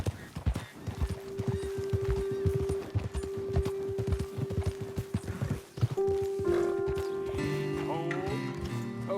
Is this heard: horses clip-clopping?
yes